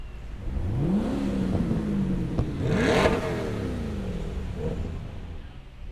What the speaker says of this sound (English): These are some beautiful cars.